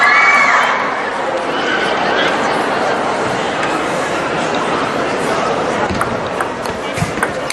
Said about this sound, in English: there are a lot of girls screaming